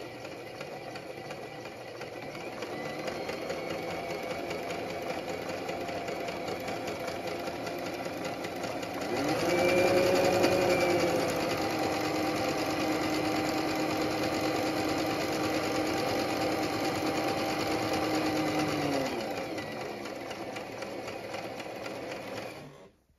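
A sewing machine runs steadily, stitching a zigzag seam in cloth with a fast mechanical hum that briefly speeds up, then slows and stops.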